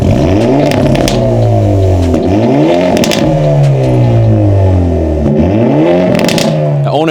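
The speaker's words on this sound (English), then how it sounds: "on sport mode, the valves open up, and you get a lot of bangs and pops" Hyundai Elantra N with a Valvetronic exhaust in sport mode, revving hard in repeated rising and falling sweeps close by, with crackles and pops breaking through between the revs.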